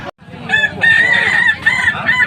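A Kukuak Balenggek rooster at a crowing contest in Padang gives a long, loud, sustained crow with a steady high ringing tone, briefly breaking and resuming, close to the microphone.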